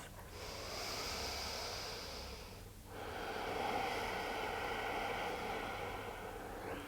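A yoga practitioner takes a deep, close breath: one slow, audible inhale, then a long, airy exhale that fills the rest of the moment.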